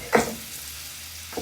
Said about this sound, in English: So I can saute with the onion.